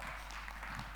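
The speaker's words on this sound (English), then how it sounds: "Please give me a big round of applause." A seminar audience gives brief applause, a dense patter of clapping heard in a room at steady volume.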